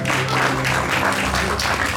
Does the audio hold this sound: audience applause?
yes